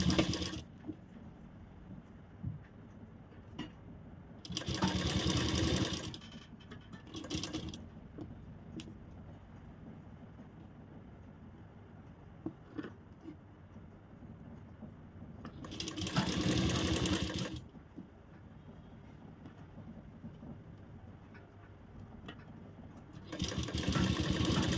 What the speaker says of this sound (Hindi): इसकी सिलाई कर लेते हैं